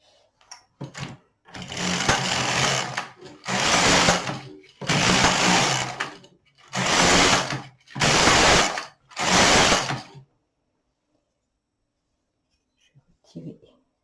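An LK 150 knitting machine works with an LE W weaving attachment, its carriage giving six loud whirring, rattling passes of about a second each with brief pauses between them, then quiet and a faint clack near the end.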